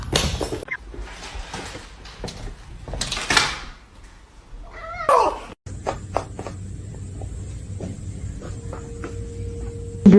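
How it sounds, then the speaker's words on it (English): Meows from a loving male house cat ring out among household clatter, a door or cupboard knock and a steady hum, with a sustained tonal cry toward the end. "He's a male. He's a very loving cat."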